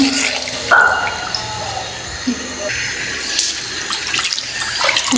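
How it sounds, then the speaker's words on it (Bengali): Tap water runs steadily into a sink while duck meat is washed by hand, with splashing and shifting flow close by and a few faint clunks. "আমি মাংসটা ভালো করে ধুয়ে নিতেছি, একটু একটু করে ভালো করে।"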